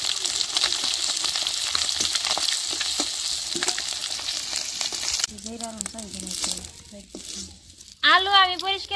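Rupchanda fish fries in hot oil with a loud, steady sizzle that fills the first half, then continues beneath a person's talking.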